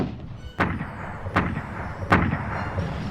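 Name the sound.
artillery bombardment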